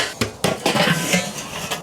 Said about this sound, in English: Right, so we'll get that lid shut